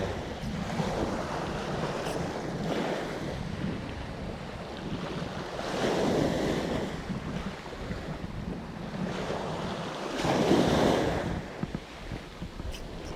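Strong wind gusting along a seashore while fishing for squid, a roaring buffet against the microphone with surf beneath it, swelling into louder gusts around the middle and again near the end.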